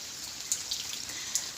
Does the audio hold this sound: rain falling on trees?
yes